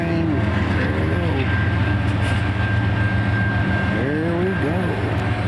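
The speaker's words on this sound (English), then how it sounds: "There it goes. Get her done, train." A train rolls by with a continuous heavy rumble, steady and fairly close, with faint voices over it.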